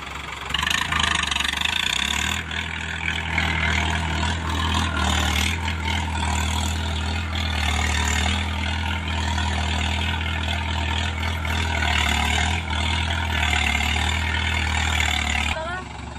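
A Mahindra 585 DI XP Plus tractor engine runs loud and close with a steady, deep drone and slight rises in pitch, with voices talking over it.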